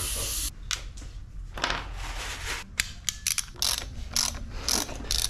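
A ratchet fitted with Fox sockets works on a Fox 38 mountain bike fork, giving close, crisp bursts of clicking in irregular runs broken by short pauses.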